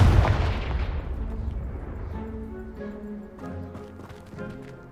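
A Confringo blasting spell detonates in Hogwarts Legacy, a loud booming burst at the very start that rumbles and fades into clattering debris and ambient game sounds.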